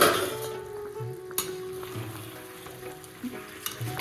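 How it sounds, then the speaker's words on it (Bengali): Chicken cooking gently over low heat in a pan, with a soft steady sizzle and occasional light scrapes and clinks of utensils, quiet and close with no talking. "আজকে চিকেন রান্না হচ্ছে চিকেন"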